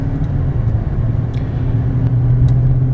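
A 2015 Chevrolet Silverado 3500HD 4x4 pickup with a 6.0L V8 drones steadily while driving, a constant low engine and road rumble with no pauses, heard from inside the cab.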